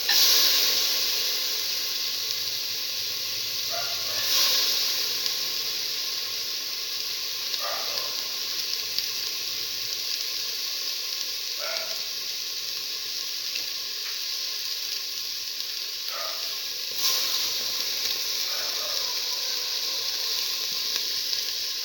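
Split black lentils (urad dal) sizzle steadily in a hot pan, a constant bright frying hiss with a few soft stirring scrapes and clinks at intervals, no voices.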